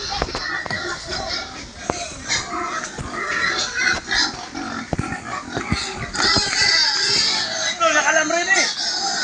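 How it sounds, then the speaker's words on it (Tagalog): Several pigs grunt and oink in short, irregular bursts, close by, with occasional squeals and some background voices, near deepening floodwater. "Ito po yung mga baboy."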